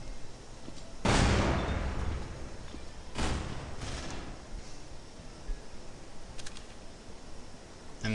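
Grenade detonation in a tactical first-person shooter match, a broadband burst at about one second followed by a second weaker blast near three seconds and a fainter one after, with low background game noise and no talk.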